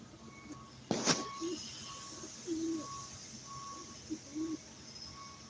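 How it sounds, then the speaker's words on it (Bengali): Soft, low pigeon coos repeat a few times at a moderate distance, with a sharp noise burst near the start and faint beeping behind. "অনেক কবুতর আসছে আমার এই কবুতরের আশেপাশে ঘোরাফেরা করতেছে অনেকগুলা কবুতর"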